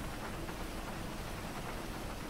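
Rain in a GTA roleplay game, a dense, steady hiss of falling rain that carries on without a break through the whole stretch.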